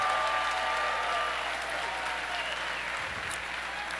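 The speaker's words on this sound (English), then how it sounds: "Give them a big round of applause." An audience gives competition judges a steady round of applause, a dense, even wash of clapping from a large crowd that holds at the same level throughout, with a faint voice under it.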